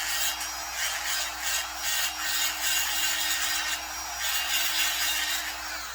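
Steady, close rasping and grinding as rough casting humps are smoothed inside a Husqvarna 385 XP chainsaw cylinder, a continuous abrasive whir that rises and falls in short strokes, with no voices.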